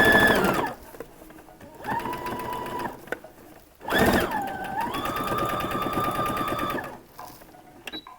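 Sewing machine stitching a topstitch along a dress facing, running in close bursts of fast rhythmic whirring and clatter separated by pauses, loud and alone.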